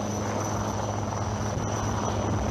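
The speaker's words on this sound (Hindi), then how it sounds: "The helicopters are carrying highly trained quick action team" Military helicopters carrying a quick action team roar overhead in a dense, steady rotor and engine drone, loud and unbroken throughout.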